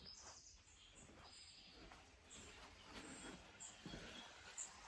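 Faint bird chirps and tweets from a garden in Cornwall come through a low, steady background rumble, scattered and distant.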